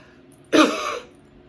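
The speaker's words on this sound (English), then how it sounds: "We have to be able to cough." A single short cough, close and dry, bursting out once and trailing off quickly against quiet room tone.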